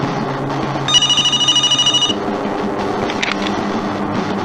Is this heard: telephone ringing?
yes